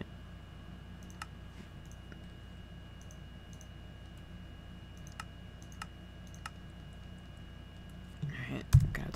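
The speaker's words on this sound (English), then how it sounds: "if you guys do hear me typing or just like hitting random shit on my keyboard" Faint, sparse clicks from a computer keyboard on a quiet gaming setup tap out at irregular intervals over a low steady hum, ending with a louder bump and rustle up close.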